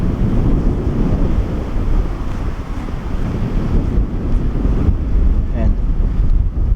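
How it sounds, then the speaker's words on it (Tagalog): Strong wind roars steadily across the microphone at a mountain viewpoint on the Nueva Vizcaya to Pangasinan road, a loud, continuous gusting rush with no pauses. "Makikita nyo, lakas na hangin."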